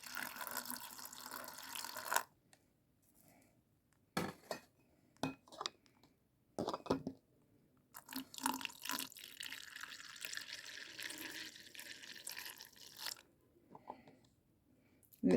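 Homemade licorice drink pours into bottles of about a liter each, gurgling and splashing in bursts separated by pauses, with clinks of containers and glass close by.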